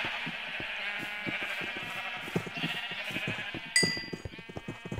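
Minecraft sheep bleat several times in a crowded in-game farm, overlapping wavering calls over a rhythmic clatter of game sounds, with one sharp chime partway through.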